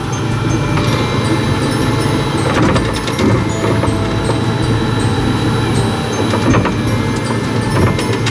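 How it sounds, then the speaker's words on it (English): A monorail ride at the Efteling theme park: a steady, loud rumble of the rolling car, with rhythmic clacks and squeaks running underneath throughout. "Goes on for ages, this monorail."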